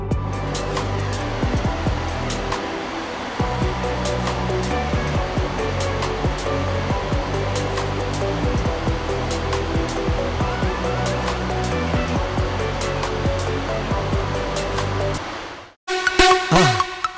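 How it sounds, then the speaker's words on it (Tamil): Water rushes loudly over a dam in a forest near Pulmoddai, Sri Lanka, as a dense, continuous roar that cuts out sharply near the end and is followed by a brief, different burst. "என்னோட காலுக்கு கீழே தண்ணி ஓடிக்கிட்டு இருக்கு"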